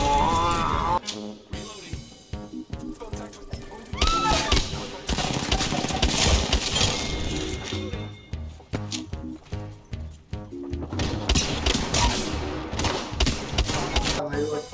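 Rapid automatic gunfire and bursts of shots from the video game Apex Legends, loud and dense, repeating in clusters across the whole stretch, with game sounds and some voice mixed in.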